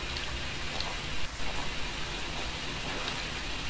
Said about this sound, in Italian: Poi il problema è che piove, raga.